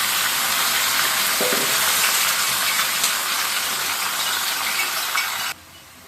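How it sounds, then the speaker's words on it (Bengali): Bottle gourd goes into hot oil with fenugreek, setting off a loud, dense, continuous hiss that holds steady for several seconds before dropping off abruptly near the end, heard alone without speech. "লাউটা ছেড়ে দিচ্ছি, পুরো লাউটাই ছেড়ে দিচ্ছি।"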